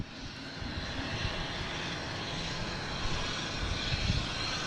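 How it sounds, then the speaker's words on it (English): A British Airways airliner takes off at Boston Logan International Airport, its engines making a steady, broad roar that swells gently and stays fairly distant throughout. "I'm going to watch British Airways take off for sure."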